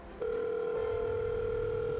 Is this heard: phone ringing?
yes